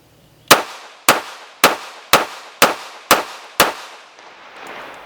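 A Beretta M1934 pistol in .380 ACP firing seven sharp, loud shots at an even, steady pace roughly half a second apart, each with a short ringing decay, no speech.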